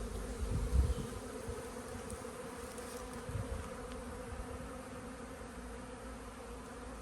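Honey bees buzzing steadily from an opened hive during an inspection, a dense close hum with a brief louder swell near the start and no voices.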